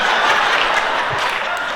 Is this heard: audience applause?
yes